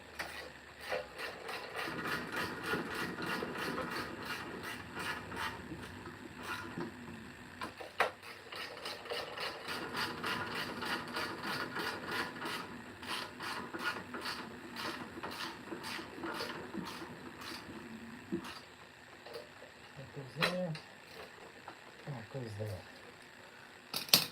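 Ratchet clicking in short rapid bursts while bolts are tightened on a snow blower being built from Craftsman and Troy-Bilt parts, close and steady over a low mechanical background, with someone speaking at times.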